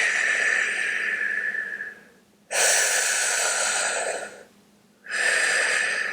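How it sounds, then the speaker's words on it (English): Deep breaths drawn in and out through the mouth during a Kundalini kriya, loud and close, with long rushing airy strokes separated by short pauses. "we start breathing deeply in and out through the mouth"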